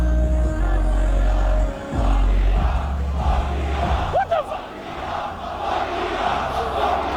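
Thousands of concert fans in a packed crowd chant a hostile slogan in unison at a performer on stage, a loud, dense roar of massed voices that surges, dips briefly and carries on steadily.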